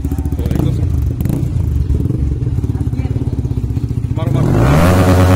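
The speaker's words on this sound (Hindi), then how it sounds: "तो ये मेरा बाइक का एग्जॉस्ट का नॉट सुनेगा अभी" A motorcycle's exhaust rumbles loudly and close at idle with a throbbing, pulsing note, then is revved up sharply near the end, with voices of people nearby.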